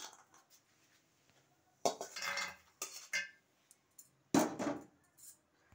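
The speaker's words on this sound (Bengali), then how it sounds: "এখন আমি বড়িগুলো নামিয়ে নেব।" Fried lentil dumplings (bori) lifted out of a pan, with several distinct metallic scrapes and clinks of a utensil against the pan in short bursts between quiet pauses.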